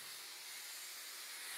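Steam hisses steadily from a steam pot in a kitchen, a close, even, broadband rush lasting under two seconds with no voices.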